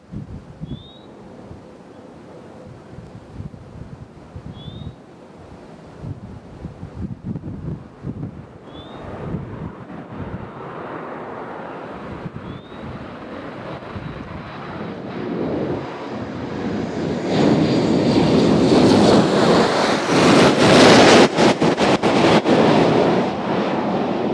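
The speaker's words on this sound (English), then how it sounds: "That is some serious wind." Strong wind gusts buffet a microphone at Nashville International Airport, starting as a low rumble and building into a loud, roaring rush in the second half, with faint chirps early on.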